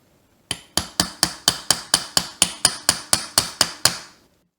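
A hammer drives a pin punch into a carburetor body, about fourteen sharp metallic strikes in a fast, even rhythm, close and loud with no talking.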